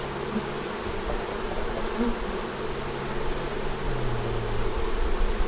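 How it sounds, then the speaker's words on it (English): A dense, steady buzz of many honey bees around a hive fills the air, a continuous droning swarm close by with no voices. "That's a lot of bees."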